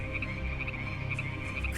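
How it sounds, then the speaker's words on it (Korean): Frogs croak in a chorus of steady, overlapping calls set in a children's Bible story about the plague of frogs, continuous and fairly loud with no speech. "국에도 개구리, 어디에나 개구리 천지였어요"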